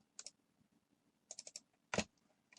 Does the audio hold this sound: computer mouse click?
yes